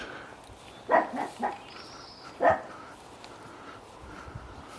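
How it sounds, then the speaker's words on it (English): A dog barks in an English churchyard graveyard at St Mary's Church, Wistaston: a handful of short barks, two close together, then a single later one, at moderate distance over quiet outdoor background. "And a dog giving his fourpenneth."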